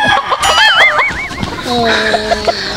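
Chickens clucking close by at a home, with short bright calls and a wavering warble scattered among people talking nearby.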